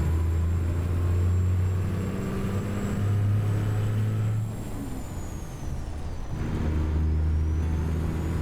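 Kenworth T600/T800 truck with an 18-speed transmission in American Truck Simulator, a loud low diesel drone that drops away briefly during a gear change, then pulls back up to a steady rumble.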